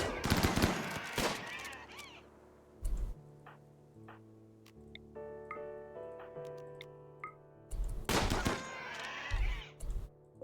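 Gunfire crackles in the colony game Rimworld: sharp bursts of shots at the start, middle and end, with ticking interface sounds and tones in between.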